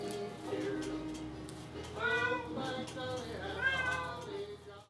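A cat meows repeatedly indoors while a Christmas tree is being decorated with lights, its drawn-out, rising cries heard close and clear above a low background hum.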